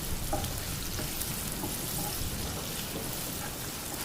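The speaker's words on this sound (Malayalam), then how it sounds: "ഇതിലേക്ക് ഒരു സവോള കട്ട് ചെയ്തത് അരിഞ്ഞത് ഇട്ട് കൊടുത്തിട്ടുണ്ട് കേട്ടോ" Sliced onion sizzles steadily in a hot pan for a restaurant-style dragon chicken, a dense, even frying hiss with faint stirring scrapes throughout and no voices.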